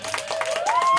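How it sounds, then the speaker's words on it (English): Audience clapping at a punk show in Rainbow Records, a record store in Newark, Delaware, steady and close for a full second, with a sustained rising tone running beneath the claps. "Give a round of applause."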